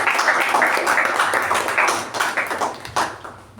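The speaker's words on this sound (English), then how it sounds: "now can we have a humongous round of applause for all our 4 TAPG" Club members give a round of applause at a meeting, a full, dense burst of many hands that fades gradually toward the end.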